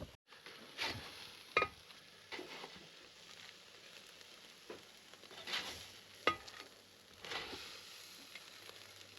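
Moose burgers frying in a pan at a remote Alaska cabin, a steady soft sizzle with scattered pops and scraping stirs, fairly quiet and continuous with no voices.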